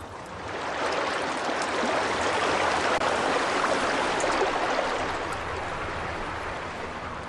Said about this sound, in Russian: За тысячелетия стремительные потоки воды лентами прорезали скальные породы и сосновые леса.